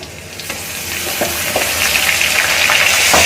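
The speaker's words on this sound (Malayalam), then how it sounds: "മുളകും ഇഞ്ചിയും വെളുത്തുള്ളിയൊക്കെ ഒന്ന് അത്യാവശ്യം ഒന്ന് ഫ്രൈ ആയി വരുന്ന പരുവത്തിൽ നമുക്കൊന്ന് വഴറ്റിയെടുക്കുന്നത്" Chili, ginger and garlic paste sautéing in a pan for squid roast, a loud, close, continuous sizzle and frying hiss with occasional stirring scrapes, steady throughout.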